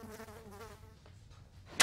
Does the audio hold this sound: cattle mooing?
no